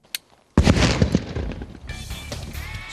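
A car packed with two gallons of gasoline and ringed with det cord in the front seat explodes in a single sudden loud blast after a brief faint click, followed by a long rumbling, crackling decay with no voices.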